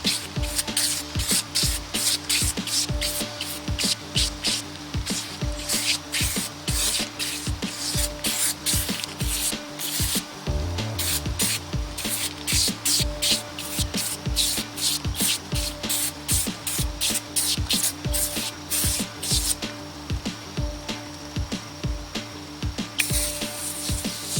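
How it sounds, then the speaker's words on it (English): Foamy aerosol cleaner sprays onto an engine accessory from an abandoned Ford F250 during restoration, a close run of repeated short hissing bursts in a steady rhythm, with brief pauses and no voices. "I notice it on pretty much every aerosol I've used that's like the foamy type"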